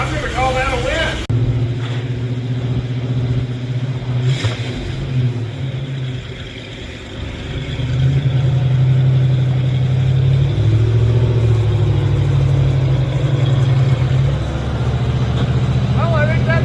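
A lifted Chevrolet Suburban with a manual transmission idles with a steady, low rumble after being fired up. It sounds close and fairly loud, with the level dipping briefly and then holding steady, and a voice speaks near the start.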